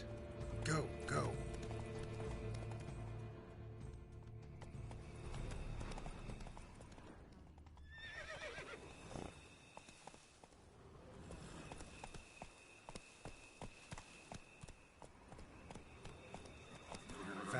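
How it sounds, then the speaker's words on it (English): Horses gallop along a road in The Witcher 3, hooves clip-clopping in a quick, steady rhythm with a whinny near the start, under game voices and ambient noise. "Horses must have gotten spooked."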